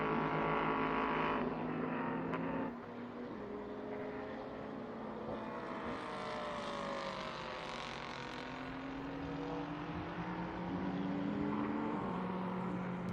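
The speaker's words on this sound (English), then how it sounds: "The BMW now approaching turn number 10, the slowest part of the circuit." A BMW endurance race car on the Slovakia Ring circuit, nearing the slow turn 10, sends a sustained engine drone with rising and falling pitch sweeps as it shifts through gears, heard distantly.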